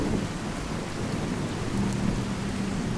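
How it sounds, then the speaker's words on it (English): Heavy rain pours steadily in the Fallout 4 video game, a dense continuous hiss with low thunder rumbling underneath, loud and unbroken, with no talk. "now it's raining like a monsoon on us."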